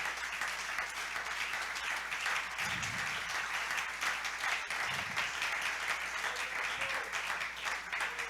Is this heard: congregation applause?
yes